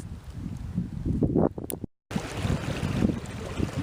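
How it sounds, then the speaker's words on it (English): Wind whipping down a valley gulch gusts loudly against the microphone with a roaring buffeting, cutting out briefly for a moment before the blustery noise resumes. "I know the wind is coming through this valley here, whipping down the gulch"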